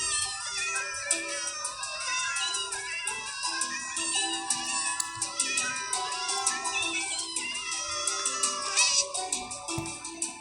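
Many cats meowing together in the Minecraft video game, a dense overlapping chorus of high mews that continues steadily and close for the whole stretch.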